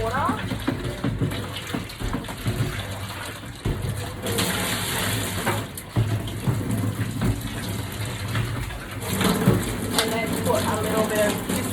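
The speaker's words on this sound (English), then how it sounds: "So now I'm going to rinse out the container with hot water." Hot water runs and splashes into a container being rinsed out, a steady gushing flow with louder surges partway through, with a faint voice now and then.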